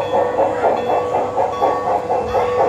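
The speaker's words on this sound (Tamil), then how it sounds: "இதுதான் அந்த ட்ரெயின், ட்ரெயின் வருது" A miniature food-serving train rolls along its track in a train-themed restaurant in India, producing a steady, rhythmic clickety-clack that stays close and fairly loud throughout.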